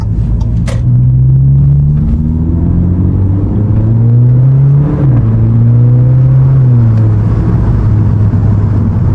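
An Audi with a DSG gearbox driving in second gear, its engine a loud, steady in-cabin drone whose pitch climbs gradually, then dips and steadies again.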